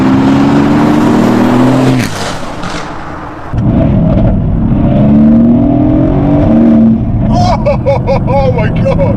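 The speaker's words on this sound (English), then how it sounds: "Right at the top of the rev range, you sort of lift off from the accelerator and it just bangs." A Renntech-tuned Mercedes-AMG GT-S roars loudly as its engine climbs the rev range in rising sweeps, then lifts off into a rapid string of sharp exhaust bangs and crackles near the end, with a voice talking over it.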